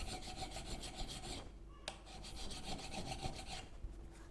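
The back of a chisel rubbed on a 300 grit sharpening stone to flatten it, a steady rhythmic rasping scrape of back-and-forth strokes, close and fairly quiet, with a brief pause midway.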